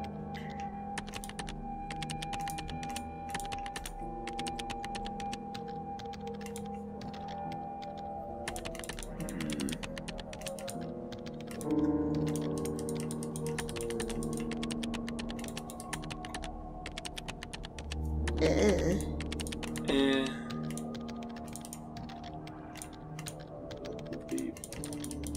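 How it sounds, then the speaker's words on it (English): A computer keyboard is clicked in rapid, irregular bursts of sharp taps, close and fairly loud, with brief gaps and a few heavier thumps between runs of typing. "Clicking the keyboard instead of the monitor?"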